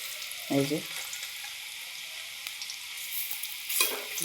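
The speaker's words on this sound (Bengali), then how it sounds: "তো দেখুন বন্ধুরা কেমন ভাজা ভাজা হয়ে গেছে। আমি একটা করে এটাকে উল্টে দিচ্ছি।" Potato slices fry in a pan with a quiet, steady sizzle. A spatula scrapes and clinks twice as the pieces are turned over, briefly raising the sizzle each time.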